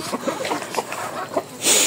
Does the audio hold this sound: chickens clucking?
yes